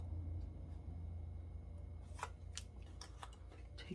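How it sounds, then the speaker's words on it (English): Scissors snipping through card paper for a pop-out vase card: a few quick, crisp cuts near the end, close and fairly quiet over a low steady background hum. "Cut that part and cut this one."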